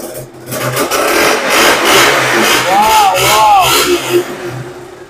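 KTM RC 200 motorcycle, a 2017 BS4 model in one-owner condition at a bike showroom near Kolkata, revved hard with steady engine roar throughout and rising throttle swells, with a voice briefly heard over it.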